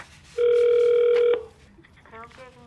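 A single steady electronic telephone ring tone sounds for about a second, loud and close, followed by faint background voices.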